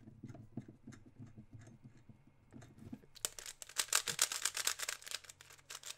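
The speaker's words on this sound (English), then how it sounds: "Take the spring and screw, push it down in, and then start screwing" A screw fitted with a spring is driven by hand into a Rubik's cube, giving soft irregular ticks and clicks that turn into a dense run of close, bright scratchy ratcheting scrapes over the last three seconds.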